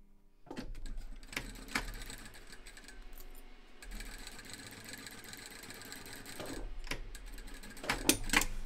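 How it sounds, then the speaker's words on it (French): A quiet, steady machine hum of a sewing machine stitching a fabric makeup pouch, low and continuous with a couple of short pauses and a few sharp clicks near the end. "Et je couds."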